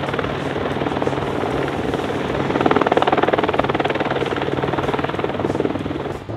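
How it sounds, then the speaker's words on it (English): A helicopter cutting back trees in a neighbor's backyard, a loud, steady thudding rotor drone with a constant engine whine that holds throughout. "while that helicopter man's doing some work in neighbor Daryl's backyard"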